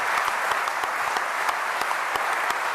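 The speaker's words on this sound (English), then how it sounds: "please give a round of applause to these agreements which mark a significant step forward" An audience in an old library hall in the City of London gives sustained, dense applause throughout, steady and loud, with no voices over it.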